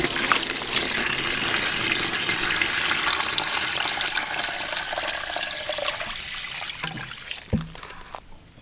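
Water sloshing and trickling in a container while an item is left to soak soft, a steady watery wash with splashy churning, a couple of louder knocks near the end.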